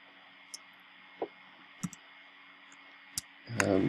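A computer mouse clicks sharply a handful of times at irregular intervals against a faint steady hum, while render settings are set in Blender; a louder burst of noise rises at the very end.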